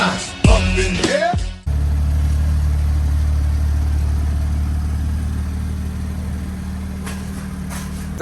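A BMW 435i engine with knocking runs at a steady idle, a low droning hum held for several seconds after a brief burst of louder sound at the start.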